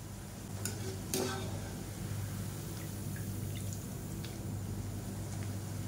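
Karasev, a crisp gram-flour snack, frying softly in hot oil while a ladle breaks it up, giving a faint steady hiss with a few light scrapes and taps. The sound is quiet and low-level, with no voices.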